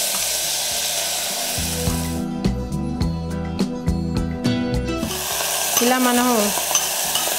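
Ingredients frying and being stirred in hot ghee for a sweet rice dish, a steady sizzle with scraping stirs, interrupted midway by a brief quieter stretch, while a voice speaks briefly.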